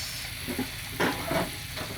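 Ground spice paste for chicken soto hits hot oil in a pan, giving short, close bursts of sizzling and crackling over a soft, steady frying hiss.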